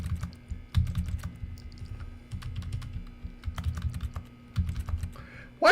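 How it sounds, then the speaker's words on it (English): Computer keyboard being typed on hard while playing The Stanley Parable Ultra Deluxe, with bursts of close, rapid clacking keystrokes separated by short pauses, plus a few sharper isolated clicks. "It's because I'm slapping a keyboard."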